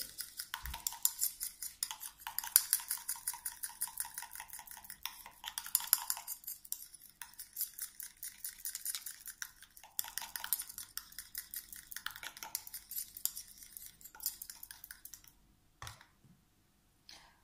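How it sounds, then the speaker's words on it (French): Cream ingredients stirred in a small bowl for an anti-shine face cream, a long run of rapid light clicking and tapping strokes, close and steady, stopping near the end with no talk. "surtout entre chaque ajout, bien mélanger"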